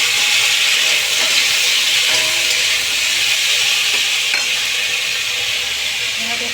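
Green chillies and black cumin frying in a pan, a loud, steady close sizzle and hiss that continues without a break.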